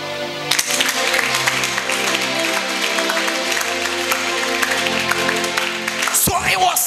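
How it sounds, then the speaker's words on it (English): A church congregation claps together during a service, a dense, loud, continuous patter of many hands over sustained musical tones, ending in a short burst of handling noise. "you can clap"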